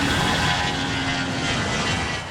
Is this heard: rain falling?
no